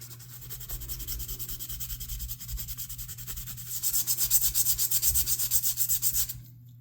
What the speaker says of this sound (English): So you can see with just a quick rub how quickly they clean up